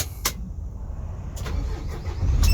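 An Isuzu FRR Max Torque 210-horsepower truck from 2022 cranks and starts, a low starter churn building into a deep diesel idle that grows louder toward the end, with a couple of faint clicks.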